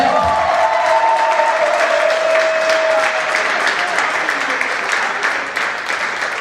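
A theatre audience breaks into loud, sustained applause that fills the room, dense clapping with some cheering mixed in, gradually easing toward the end.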